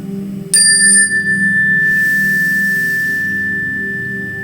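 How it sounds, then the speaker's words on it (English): A meditation chime struck once, ringing out clear and bright and then slowly fading over several seconds with a long sustained tone, heard alone in a quiet room. "have a big release at the sound of the chime"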